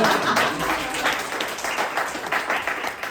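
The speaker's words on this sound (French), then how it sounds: "tenez un applaudissement de même" A comedy club audience breaks into applause for a performer, a dense, moderately loud patter of many hands that swells and tapers slightly over several seconds, with faint voices beneath.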